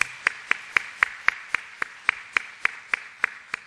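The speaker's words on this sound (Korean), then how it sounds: "우리 박수로 환영합시다." About a dozen evenly spaced sharp claps ring out in a church congregation welcoming a newcomer, steady and moderately loud with no talk over them.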